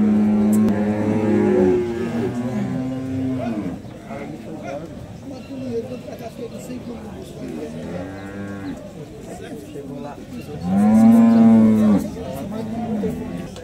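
Several cattle moo loudly, some long and drawn out, with people talking in Portuguese in the background amid the noise of a livestock market in Alagoas, Brazil.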